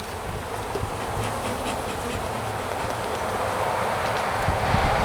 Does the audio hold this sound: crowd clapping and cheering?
no